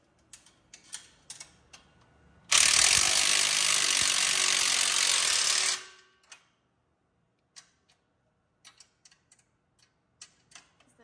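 On a 2021 RZR Trail Ultimate, a hand tool tightens bolts on a front frame stiffener: sparse clicking ratchet ticks, then a loud steady rushing burst for about three seconds, followed by scattered light metallic clicks.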